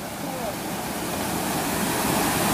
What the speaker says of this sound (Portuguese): Chegar na cachoeira.